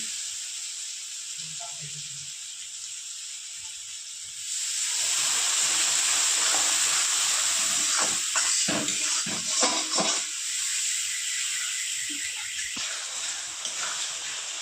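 Ginger-garlic paste with ground spices (chili, coriander, turmeric and Kashmiri chili powder) is quiet at first, then bursts into a loud, hissing sizzle with steam as a splash of water hits the hot pan, crackling on steadily.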